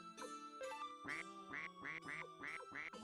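Cartoonish quack sound effect from the video game Suikoden 2, a short run of bright nasal duck quacks repeated in quick rhythm, clear and alone.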